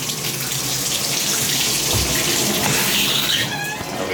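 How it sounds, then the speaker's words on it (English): Hot water streams steadily from a shower head, a loud close hiss and splash that keeps running without a break. "turn the shower on super hot"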